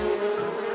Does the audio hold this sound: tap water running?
no